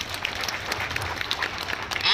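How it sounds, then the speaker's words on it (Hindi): An audience bursts into loud, sustained clapping at a seminar-style gathering, a dense patter of many hands close by that swells toward the end, with a voice partly heard beneath it. "इसके लिए आप अपने लिए एक जोरदार ताली बजाइए सर।"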